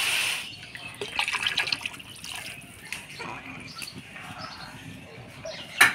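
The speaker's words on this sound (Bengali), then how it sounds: "এবার পরিমাণ মতো জল দিয়ে দিব" Water is poured into a pot of rice and lentils with turmeric and salt for khichdi, a soft continuous splashing trickle with faint birdsong in the background.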